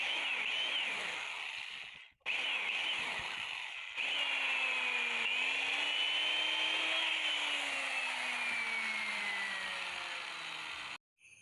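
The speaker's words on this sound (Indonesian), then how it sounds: "Setelah itu kita bor terus." A power drill whines steadily through wood in long continuous runs, about 3 cm deep, pausing briefly twice, close and fairly loud, while making a window frame.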